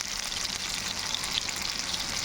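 Onion pieces and green chillies frying in hot oil give a steady, dense crackling hiss at a moderate distance, continuous and without voices.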